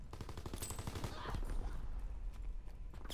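Call of Duty: WWII gunfire crackles in quick, repeated automatic bursts over a steady low rumble, fairly close but moderate in level.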